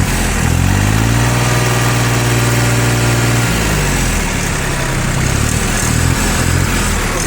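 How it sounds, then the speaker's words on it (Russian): A rear-wheel-drive mini tractor's engine runs steadily close by, a loud, even mechanical drone that rises in pitch as the throttle is opened, then settles back to a smooth idle-like hum. "без вопросов двигатель работает наш"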